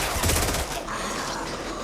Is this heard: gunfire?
yes